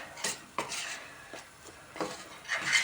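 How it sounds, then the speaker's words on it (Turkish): Flour halva stirred continuously in a pot, with a spoon scraping the metal base in several short, close strokes, fairly quiet, without talk. "Bunu da devamlı karıştırıyoruz işte un elvalarında"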